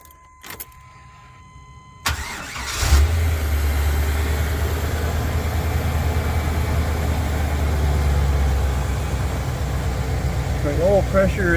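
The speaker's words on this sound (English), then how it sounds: "let's see if it's going to crank." A 2000 Express van engine cranks briefly and catches, settling into a steady low idle after some clicks and a short stretch of quiet, with a faint squealing whine near the end.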